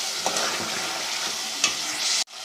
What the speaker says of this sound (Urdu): یہ ہم اس میں شامل کر دیتے ہیں اور اس کو اچھے طریقے سے بھون لیتے ہیں